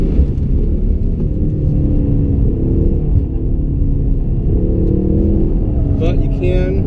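Ford Mustang EcoBoost lapping a figure-eight track, a steady engine rumble under continuous close talk, with the engine note rising and falling through the corners and a brief sharper whine near the end.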